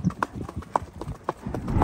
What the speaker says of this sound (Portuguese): E meu cavalo não sai da marcha